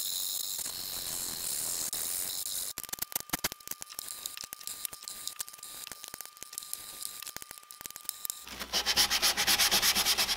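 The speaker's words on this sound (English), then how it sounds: "I used a sequence of sandpaper grits to polish all the frets." Sandpaper rubs back and forth over the metal frets of an OM acoustic guitar during a build, with fast repeated close scraping strokes, then a brighter, harsher hiss of sanding near the end.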